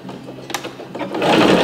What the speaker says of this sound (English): here I'm going to backstitch a little bit